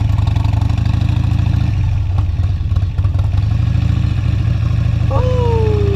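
Harley motorcycle engine struggling to idle with the choke down, a steady rumbling idle that holds close and loud throughout, joined near the end by a brief high whine.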